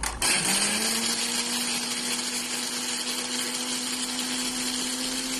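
A kitchen blender grinds fresh basil leaves for pesto, its motor whirring steadily and loudly for several seconds after a brief start-up surge.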